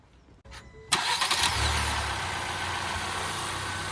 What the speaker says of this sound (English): Let's turn on the car, then check underneath for any leaks or anything that seems off.